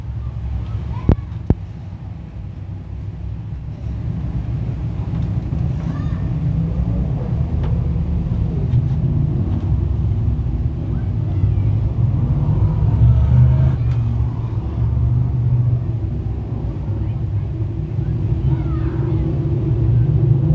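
Dirt track sportsman race cars rolling onto the speedway, a steady deep engine rumble with wind buffeting, a few faint clicks, and a commentator talking over the noise throughout.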